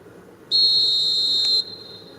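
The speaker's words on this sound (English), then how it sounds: "There's the whistle, and here we go." A referee's whistle blows for kick-off in an eFootball match, one sharp sustained blast of about a second over low crowd ambience, then fading back to the murmur of the stadium.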